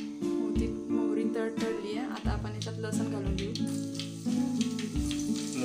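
Mustard seeds crackle and spit in hot oil in a pan, a dense steady sizzle broken by sharp pops and occasional stirring knocks.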